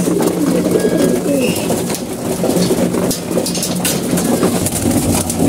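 A flock of pigeons coos steadily and continuously close by, low throaty calls overlapping with no talking.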